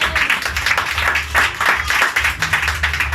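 A church congregation at a Sunday service claps together in steady, rhythmic applause, loud and close, with a few voices mixed in.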